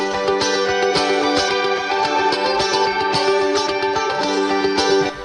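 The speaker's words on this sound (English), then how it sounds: "the guitar layers sounds like this." Layered guitar parts in an electronic future-bass-style track ring out as dense sustained chords with quick rhythmic plucked accents, loud and continuous with effects-heavy sheen throughout.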